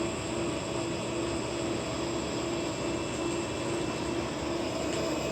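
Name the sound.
laser-powered drone model motor spinning propeller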